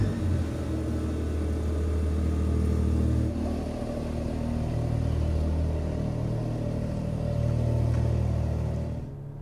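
Steady, deep engine rumble of a 2024 Mercedes-AMG GLE 53 Coupe on the move, with low droning tone, a couple of mild swells as it accelerates, heard close and continuous before fading at the end.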